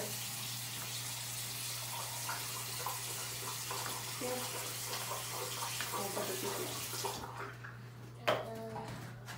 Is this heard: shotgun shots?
no